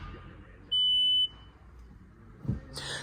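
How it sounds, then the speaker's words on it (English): Suzuki Fronx parking sensor chiming once when shifted into reverse, a single clear electronic beep lasting about half a second in a quiet cabin, followed by faint rustling. "if you put the vehicle into reverse, you'll hear it goes beep"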